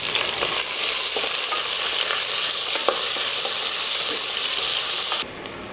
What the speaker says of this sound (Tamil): 2 பெரிய வெங்காயம் நீல வாக்கில் கட் பண்ணி வச்சுருக்கேன், அதை சேர்த்துடலாம்